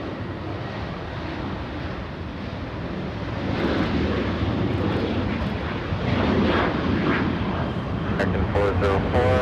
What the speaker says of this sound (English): Hawaiian A330